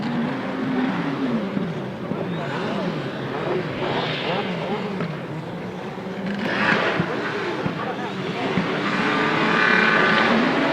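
Grasstrack racing motorcycles accelerate away from the start down the first straight, a loud, sustained engine roar that rises and shifts in pitch as the pack moves, with a commentator talking over it.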